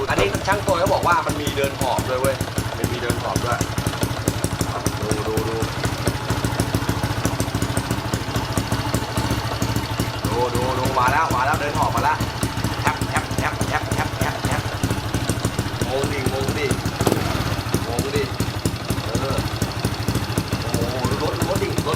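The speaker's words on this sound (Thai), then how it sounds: "อันนี้ก็เป็นเสียงท่อของผมนะครับ" A 110i motorcycle's exhaust idles steadily with a low, throbbing rumble and occasional clattery pops, sustained close by throughout.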